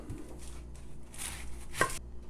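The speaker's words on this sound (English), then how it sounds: "into the bowl, we're going to chop some red onion" A knife chops through a red onion on a cutting board in a home kitchen, with a few close, crisp cuts against low background hum.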